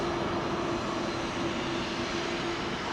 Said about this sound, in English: Iberia 330 making a load of noise.